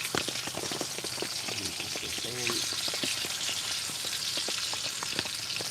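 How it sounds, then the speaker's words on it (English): Grease pops and crackles in a frying pan inside a hot tent while camping on a rainy day, a steady sizzle broken by sharp snaps close to the microphone, with faint voices at times. "I want to look at the look at the grease popping"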